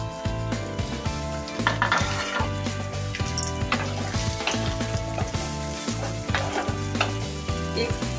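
Chopped okra goes into a pan of golden frying onions, setting off a loud close sizzle with clattering stirring and pan knocks, all heard over steady background music.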